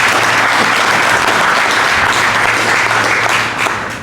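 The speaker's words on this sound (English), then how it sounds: "I think they deserve a good round of applause." An audience at a boxing promotion launch event applauds continuously, a dense crowd of clapping that stays loud before easing slightly at the end.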